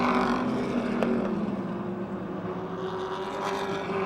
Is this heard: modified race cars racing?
yes